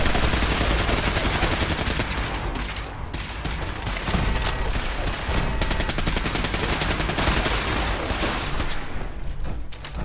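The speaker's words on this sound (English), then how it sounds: "this automatic institute pistol is really something" Rapid automatic gunfire from an automatic Institute pistol in the video game Fallout 4, a dense, continuous stream of loud shots with brief pauses, filling the whole stretch with no talk.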